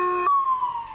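An ambulance siren rushing to King Street outside a Sydney court, a loud tonal wail that holds a steady pitch and then slides upward into a long, slowly falling sweep, clear and prominent.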